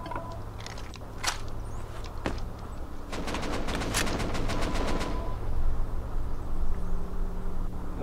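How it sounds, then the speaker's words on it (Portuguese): Gunfire in the online survival game Rust: a few scattered single shots, then a rapid run of sharp cracks in close succession over a low steady background hum. "Acertei dois tiros."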